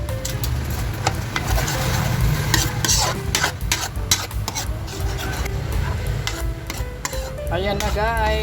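Spaghetti sauce with cheese being stirred in a pan, with repeated scraping and clicking of a utensil over a soft sizzle, close up, and a brief voice near the end.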